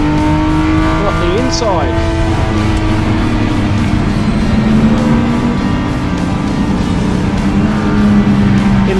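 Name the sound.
Triumph TR6 race car driving on track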